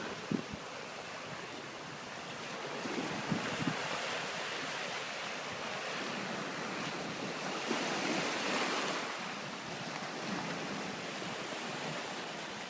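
Strong sea waves crash onto a beach at high tide, a continuous roaring surf that swells and fades, heard up close with wind over the microphone and no talk.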